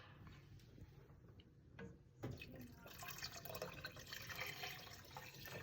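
Water splashes and trickles into a pot of homemade spaghetti sauce, a soft, close, uneven pour with faint voices in the background.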